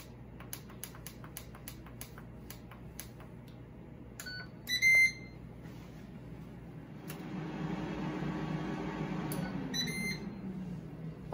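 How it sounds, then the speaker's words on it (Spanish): Air fryer being set to preheat on its fry setting: a run of short electronic beeps and button ticks, then the fan and heating hum starting up and continuing steadily, with a few more beeps. "voy a precalentar la freidora en la opción de freír 5 minutos"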